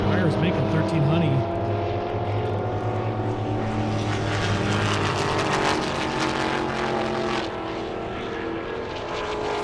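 Dodge Hellcat blasting down an airstrip on a drag racing speed run, a loud sustained engine roar with harmonic tones shifting as it accelerates, holding strong throughout.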